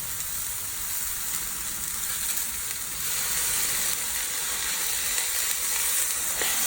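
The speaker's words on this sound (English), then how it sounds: "I'm gonna stir this up, make sure it's well incorporated" Omelette mixture with spinach, onion and oregano is stirred in a hot pan, giving a steady, close sizzle that grows slightly louder midway, with no talking.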